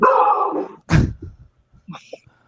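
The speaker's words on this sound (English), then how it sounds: "Perfect timing for the dogs to bark." Dogs let out a loud, sudden bark followed by a few softer yips and snuffles, nearby and intermittent with gaps of quiet between.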